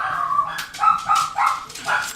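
Several dogs bark in short, repeated bursts in the background during an indoor craft session with teabag paper. The barks come in uneven clusters across the whole clip at moderate loudness.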